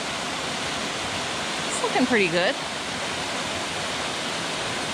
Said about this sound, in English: this is Zealand Falls